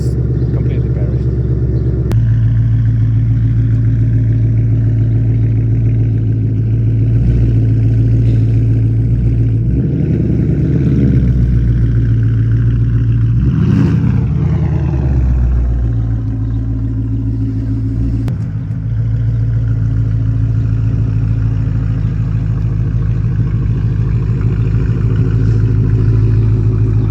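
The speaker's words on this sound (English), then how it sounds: "That's without rear mufflers. Very happy. We started the car. That sound just nuts." A crash-damaged Ford Mustang GT running without rear mufflers idles with a loud, deep, throbbing rumble and swells briefly with a couple of revs midway.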